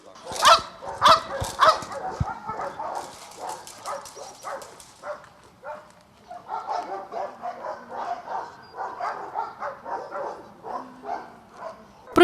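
A shepherd service dog barks and yips during training in a lively burst of several sharp barks, then continues with quicker, lighter yelps and whimpers at moderate distance.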